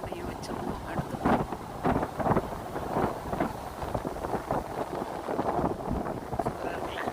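A light breeze blows steadily across the microphone, a continuous gusty rush that swells and eases throughout, with no voices.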